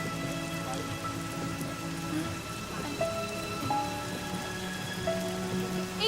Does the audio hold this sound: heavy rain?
yes